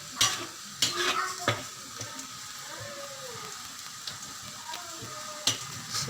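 Onions frying in oil in a pan for a water spinach dish, a continuous crackling sizzle with several sharp utensil knocks and stirring scrapes.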